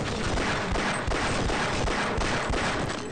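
Colt 45 pistol fire in the Half-Life video game, a fast run of loud, sharp shots in steady rhythm that blur into a near-continuous volley with no talking.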